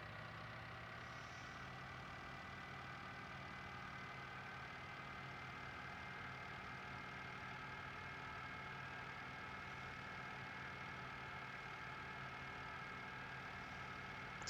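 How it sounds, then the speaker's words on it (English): A tractor engine in a farming video game drones steadily at a constant pitch while driving along a road, loud and unbroken from start to finish with no talking. "This isn't the quickest tractor on the road, but it's plenty quick enough for what we need at the moment."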